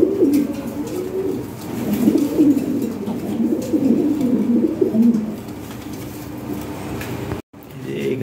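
Lahore pigeons, a breeding pair of European Lahori birds, coo steadily in low, throaty rolling phrases close by, with a brief dropout near the end and faint background noise.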